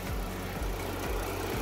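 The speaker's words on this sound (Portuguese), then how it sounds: "Tá aí o motor Ford," A Ford 3.5 car engine idles steadily nearby, a low rumble with a faint regular pulse and no talking.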